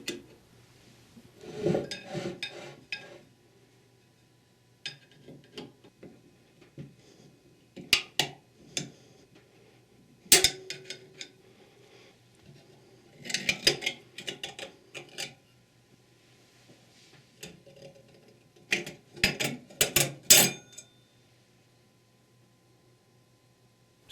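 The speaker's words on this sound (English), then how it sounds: "Use a medium-sized screwdriver to work this snap ring out." A medium-sized screwdriver pries a snap ring out of a Ford E4OD/4R100 automatic transmission, giving close, intermittent metallic scrapes and sharp clinks in irregular bursts over a low steady hum, with no talking.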